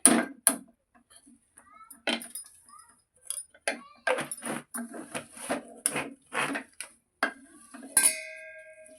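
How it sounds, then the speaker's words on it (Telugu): A spoon clinks and scrapes repeatedly against a pan while peanuts and jaggery are stirred with ghee, giving irregular close knocks and rattles. "మళ్ళీ వీటన్నిటిని ఇలా మిక్స్ చేసుకోవాలి, బెల్లం అంతా కలిసేటట్టుగా"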